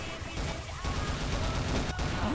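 Gunfire in the CrossFire-style shooter CounterStrikeAres offline, continuous rapid bursts of shots filling the clip, loud and close.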